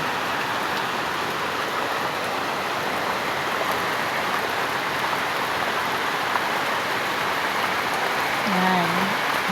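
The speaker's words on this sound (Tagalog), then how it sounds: "Lakas ng ulan talaga." Heavy rain pours steadily throughout, a dense hiss of water drumming on surfaces, with a brief low tonal sound near the end.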